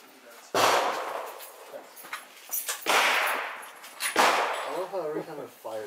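A Serbu BFG-50A .50 caliber rifle fires three booming shots, each with a long echoing decay, followed by loose objects clattering and falling, with a person talking briefly near the end.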